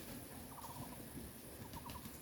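Chickens crowd a farm, giving faint, scattered clucks and short calls over a steady, noisy background.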